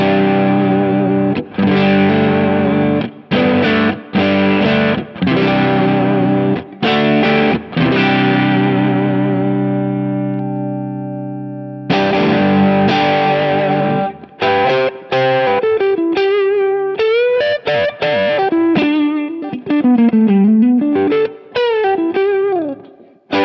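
Electric guitar played through a Kingsley Jouster tube overdrive pedal on voice setting 3, with warm distorted chords ringing out, then a choppy stretch of muted strums and a bending melodic lead line, loud and without talk.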